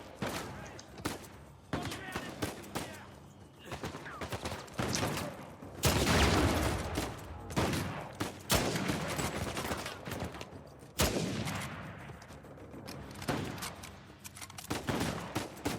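Gunfire in Uncharted 4 as a sniper rifle comes into play, loud bursts and volleys of shots with sustained blasts and sharp cracks, spread across the sequence, no talk.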